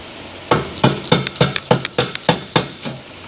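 A hammer strikes a Jeep 3.7 engine's metal oil pan about ten times in a steady rhythm, sharp ringing clanks close up, with no voices.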